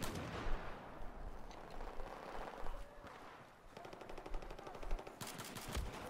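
Battlefield 4 multiplayer team deathmatch gunfire from a SCAR-H and other weapons, with rapid automatic bursts and scattered shots, some near and some distant, in a dense and continuous volley.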